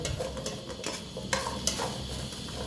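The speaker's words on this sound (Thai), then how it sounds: "คั่วเครื่องเทศให้หอมหอมก่อน" Spices dry-roast in a pan for catfish soup in fermented fish sauce, stirred with quick scraping strokes and light clinks against the metal over a soft sizzle, close and with no voices.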